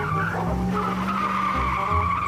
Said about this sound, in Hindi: चल भाई जल्दी से गाड़ी पीछे ले ले।